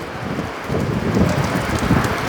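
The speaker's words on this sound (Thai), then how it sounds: "ฝน" Steady broadband rain hiss with a low gusty rumble from a storm, continuous and fairly loud throughout, with no voices.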